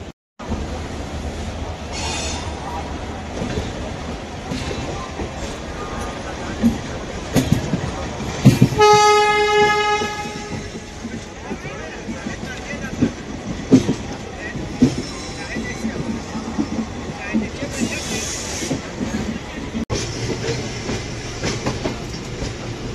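Passenger train noise rumbles and clatters steadily as it leaves Howrah station, with a sustained horn blast partway through and occasional voices in the background.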